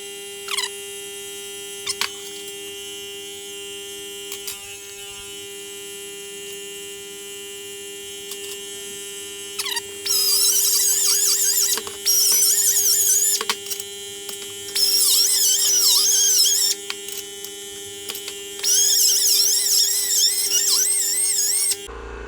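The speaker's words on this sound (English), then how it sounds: "By the way, notice I'm using a die grinder," Die grinder in a performance shop whining in long, loud high-pitched bursts that rise and fall as it cuts, close up over a steady background hum.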